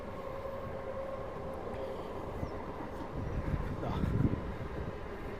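A train passes near a staycation property in Kollam district, Kerala, as a steady low rumble of rolling wheels that grows louder and rougher toward the end, with no talking.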